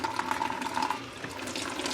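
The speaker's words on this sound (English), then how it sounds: "then you just fill it with water" Water running steadily into a plastic bag with a hole on top and small compartments, a continuous close rushing and splashing hiss with a faint steady tone.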